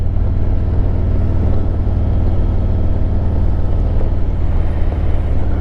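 A Harley-Davidson Road Glide Limited motorcycle rides along a favorite road, its engine giving a steady, loud low rumble mixed with rushing wind noise throughout, with no talking.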